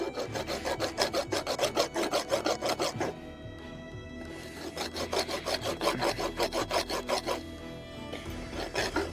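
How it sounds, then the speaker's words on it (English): Hot rasping of a forged sgian dubh knife blade: repeated rapid rough strokes of a rasp on hot steel, loud and close, in two long bursts separated by a short pause, with no talk. "this is called hot rasping, and it's rasping while it's hot"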